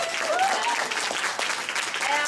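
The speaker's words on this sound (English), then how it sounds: "can we give her a round of applause?" Steady applause from an audience for a team member fills the space as a dense, even wash of clapping at moderate distance, with people talking over it.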